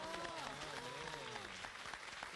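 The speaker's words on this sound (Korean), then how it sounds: "박수 한번 더 보내드리겠습니다" Audience applause at a church prayer meeting, steady dense clapping filling the space while a voice speaks over it.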